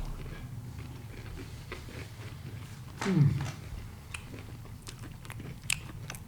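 Food being bitten and chewed up close, a short burst of crunching mastication just past the midpoint over a steady low background murmur.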